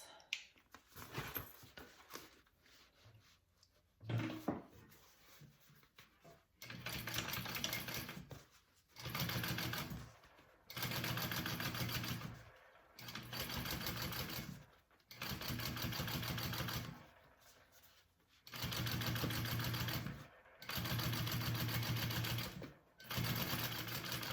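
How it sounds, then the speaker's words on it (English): A sewing machine top-stitches a handbag in bursts of steady, rapid whirring, several runs of a few seconds each separated by short pauses, close by and alone. "let's top stitch this"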